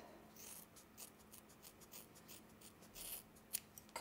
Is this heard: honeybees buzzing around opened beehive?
no